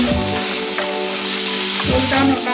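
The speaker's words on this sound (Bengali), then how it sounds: "এখন মাছগুলো ছেড়ে দিচ্ছি হালকা করে একটু ভেজে নেব দেখুন তেলে পড়ে গিয়েছে সব মাছ" Fish sizzling in hot oil in a pan for a spicy Bengali fish curry, with a steady loud crackle and a few soft stirring knocks.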